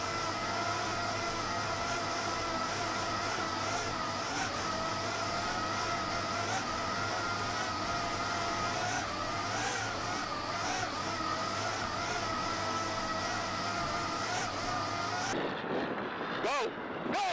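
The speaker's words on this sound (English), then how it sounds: "Hear the supercharged MRD engines humming right along there on that 42-foot outer limit." Supercharged MRD engines on a 42-foot Outer Limit race boat at the Key West world championships drone in a loud, steady, harmonic roar that stays constant before breaking into wind and spray at the end.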